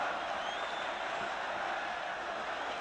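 A large crowd applauds deputy Mário Juruna, a steady, dense wash of clapping and cheering that holds at a constant level throughout without a break.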